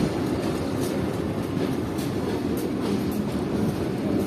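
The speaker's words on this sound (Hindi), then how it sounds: "वो आ रही मेरे सामने से बिल्कुल रावलपिंडी और कराची के दरमियान चलने वाली 46 डाउन पाकिस्तान एक्सप्रेस" A Pakistan Express train runs steadily close by on the Rawalpindi–Karachi line, hauled by an SPU 20 locomotive. Its wheels give a continuous rumbling clatter with faint rail clicks, and no voices are heard.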